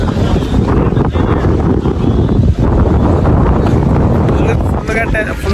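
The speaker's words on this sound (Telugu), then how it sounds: "గాలి ఎక్కువగా రావడం వల్ల" Strong, gusty wind sweeping across a county cricket ground, a loud, steady broadband roar buffeting the microphone with brief dips, continuous for several seconds.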